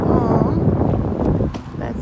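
Strong outdoor wind by a dumpster buffets the microphone with a loud, constant low roar that barely lets up, and people talk briefly underneath.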